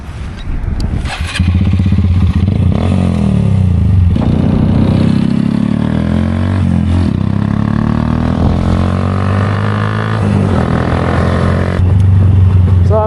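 A Honda Grom motorcycle on a test ride after a frame swap: the small engine fires up, then drones at steady revs with slight rises and dips. The engine note is loud and close throughout, with no talk over it.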